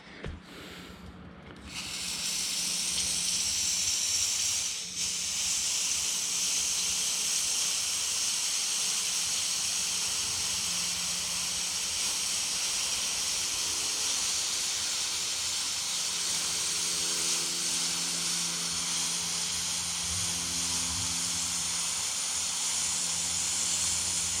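Steady, loud sizzling hiss from smelting PC circuit boards that starts after a brief quiet moment and continues without a break, with a faint low hum underneath.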